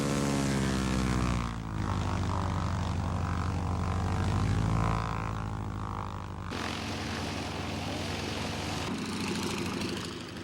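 A North American AT-6 Texan propeller trainer flies at a 1989 air show. Its loud radial-engine drone swells and fades as the plane passes, shifting pitch and character partway through, with no voices over it.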